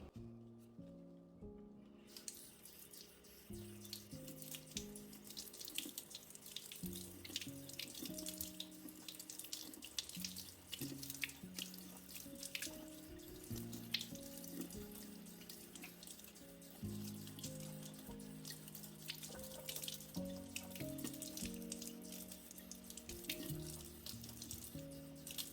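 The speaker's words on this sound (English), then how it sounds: "Now let's go wash it in the sink." Tap water runs steadily into a sink as a plant is washed beneath it, a continuous close splashing with irregular clatter and shifting tones from the handling, no voices.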